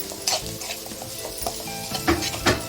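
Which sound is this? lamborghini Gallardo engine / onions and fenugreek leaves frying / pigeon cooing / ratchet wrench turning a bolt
onions and fenugreek leaves frying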